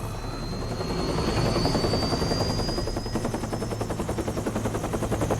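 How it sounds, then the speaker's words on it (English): Helicopter in the video game Metal Gear Rising, a loud continuous rotor chop with rapid pulsing thumps and a high whine, close and dominant throughout. "And he's gonna do it with a helicopter."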